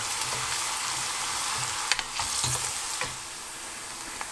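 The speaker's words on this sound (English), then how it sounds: "we're gonna add the crushed garlic. And we just want to fry this until it's cooked through." Steady hissing sizzle of food frying in a pan, with a few light scrapes and taps of stirring over the crackle.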